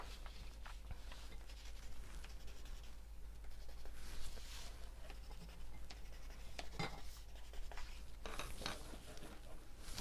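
A pencil scratches and rubs across fabric quilt pieces in steady, soft strokes, close and faint against a low background hum, with no talking.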